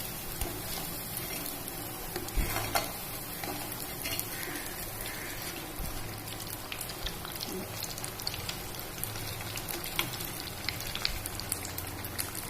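Sabudana vadas sizzle in hot oil, a steady crackling, rain-like frying hiss with small pops throughout, close and even.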